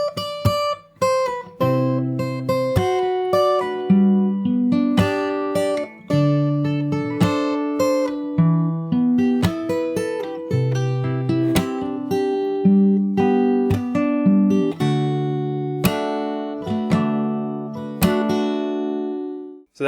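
Fingerstyle acoustic guitar plays the second part of the chorus of a song, a steady flowing run of plucked notes and chords with sharp percussive accents, played solo and close for about twenty seconds.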